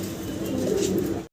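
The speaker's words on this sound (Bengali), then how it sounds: "আরো এক জোড়া কালদাম কবুতর।" Black-spotted fancy pigeons kept as a pair give a short, close, soft cooing call, low and throaty, lasting about a second with no talk.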